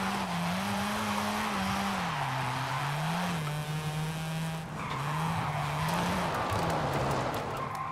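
Modified Mazda RX-7 drifting in Forza Horizon 5, with a steady droning rotary engine note and continuous loud tire squeal and skidding that rises and falls through the slides, with no talking.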